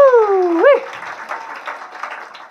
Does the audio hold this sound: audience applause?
yes